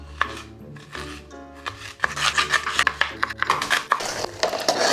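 A knife chopping an onion on a cutting board, a rapid run of close, crisp knocks that speeds up partway through, over a steady low background hum.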